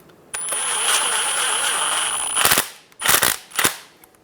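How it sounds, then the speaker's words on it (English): A socket ratchets on a fuel filter bracket bolt on a 2000-2007 Ford Focus, with a steady whir followed by three short bursts of clicking, close and fairly loud. "Snug the bolt down."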